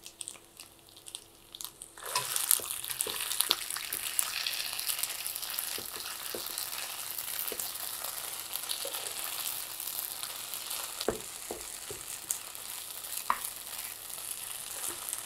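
Onions and garlic fry in a pan with a steady, dense sizzle that starts suddenly and keeps on. Faint scrapes and clicks from stirring come through now and then, with no talk.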